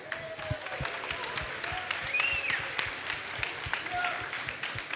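Applause from an audience at the Hearthstone Innkeeper's Invitational finals esports event, scattered claps over steady crowd noise while a host keeps talking over it.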